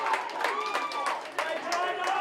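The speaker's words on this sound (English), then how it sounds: "The Wentworthville crowd starting to really rev into this game." A crowd of Wentworthville spectators at an Under 15 Division 2 grand final claps and cheers in a steady, slightly distant wash of noise, with a commentator's voice running over it.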